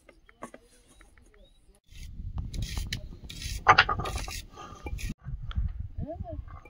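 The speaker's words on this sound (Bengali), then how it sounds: "ওই তো বাটনা বেটে দিচ্ছে" Spice paste being ground on a traditional grinding stone in a home kitchen gives rough, rhythmic scraping strokes at close range, starting after a quiet opening and running under occasional voices, with a sharper click midway.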